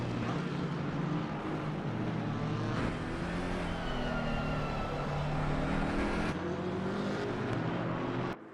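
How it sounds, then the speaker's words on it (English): A BMW M6 GT3 race car engine roars loud and close at a Zandvoort multi-class championship season opener, a dense, steady mechanical drone with shifting pitch that holds for the whole stretch before cutting off abruptly at the end. "You can hear that engine roar in there."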